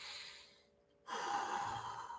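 A single slow, deep breath during a breathing exercise: a long airy exhale fades into a short pause, then a strong, close inhalation rushes in, loud and breathy.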